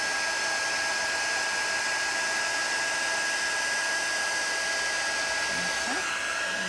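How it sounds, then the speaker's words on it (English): Wow heat tool blowing hot air to set embossing powder on a stamped lace border, a constant close whirring hiss with a thin steady whine, heard alone throughout. "And I'm using the Wow heat tool."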